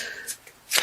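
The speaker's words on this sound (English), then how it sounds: "So I feel like these want to be shuffled." Tarot cards are shuffled by hand in two quick riffling bursts, crisp and close, the second louder, all within under a second.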